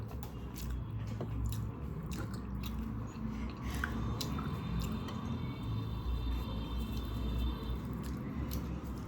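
Quiet, close chewing of a meal of basmati rice with boiled musur dal, fried potatoes, boiled eggs and eggplant bharta: soft, wet, squishy bites and mastication continuing steadily with faint background noise and no talking.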